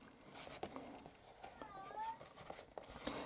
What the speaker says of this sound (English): Can you hear my cat, Chloe?